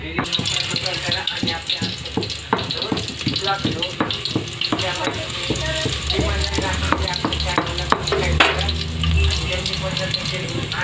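Garlic sizzles and crackles in hot oil in a pan, the base for a fish curry, with steady close frying, a few utensil clinks and stirring throughout.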